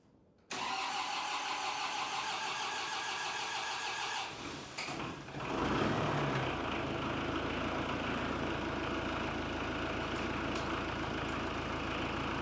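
A New Holland farm tractor that has sat unused for over a week cranks briefly, then catches and fires up, settling into a loud, steady diesel idle close by with no talking.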